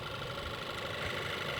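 The 2.0-liter TSI turbocharged engine of a 2015 Volkswagen Eos idles with the hood open, giving a steady, even hum throughout.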